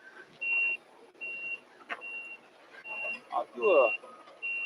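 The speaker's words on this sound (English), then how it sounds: "They're doing some beeping over here." Reversing beeps sound from a vehicle at SpaceX Starbase in Boca Chica, Texas, steady-pitched tones repeating at intervals, moderately distant under wind and scattered noise, while someone speaks briefly.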